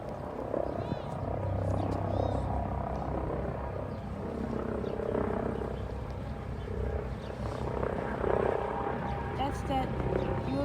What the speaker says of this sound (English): That's that Eurocopter AC-155.